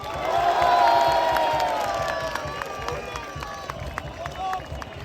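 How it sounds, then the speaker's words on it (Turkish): A stadium crowd at Beşiktaş's Turkish Cup trophy celebration roars and applauds for Jackson Muleka, a loud, sustained swell that slowly eases off, with an amplified announcer's voice carrying over it. "Alkışlarınızla Jackson Muleka."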